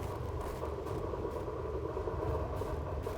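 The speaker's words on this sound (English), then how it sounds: "So that must be the train, right? Because we're trying to catch a train." A train rumbles from a distance in the video game INDIKA, a low, steady mechanical drone with faint clatter, quiet and continuous throughout.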